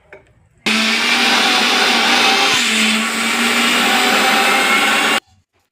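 A kitchen mixer grinder grinds garlic chutney powder in one loud, continuous high whirring run of about four and a half seconds. The run starts and stops abruptly, with a slight dip in pitch midway.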